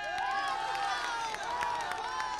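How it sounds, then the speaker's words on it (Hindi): Crowd at a Ram Lalla consecration-themed poetry event cheering and clapping, a steady wash of massed applause and voices, fairly distant and continuous. "तालियां बजनी चाहिए भाई।"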